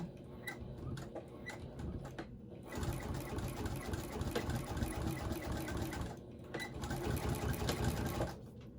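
A sewing machine runs in steady bursts while test-stitching a baby quilt, with a fast mechanical whir and ticking needle rhythm, pausing briefly twice; close and fairly loud with no talk.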